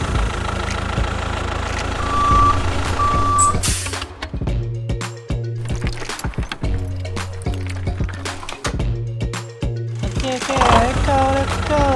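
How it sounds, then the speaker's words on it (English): A cartoon truck tows a car while an engine idles and rumbles, with a short run of high reversing beeps early on, then chugging, pulsing motor sounds. "Hawk helps Mario tow the car to the gas station"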